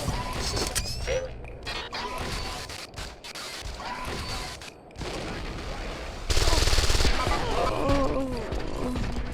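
Enemy gunfire aimed at the player in Deus Ex: Invisible War, with dense, rapid bursts of shots and crashing impacts layered over the game's busy ambience, growing louder and harsher near the end.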